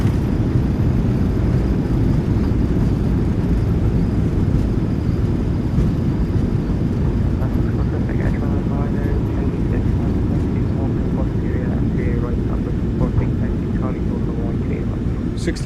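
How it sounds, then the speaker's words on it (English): On a Boeing 737-900ER landing in a flight simulator, the reversers deploy with a loud, constant low roar that holds steady throughout, while a voice speaks over it. "Reversers are out. Decelerating."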